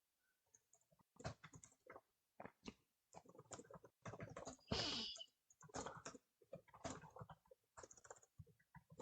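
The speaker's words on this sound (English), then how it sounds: "let's say I want to type in different content" Typing on a computer keyboard, heard as bursts of fast, close clicking keystrokes that come in short runs separated by brief pauses, with one denser flurry near the middle; no voices.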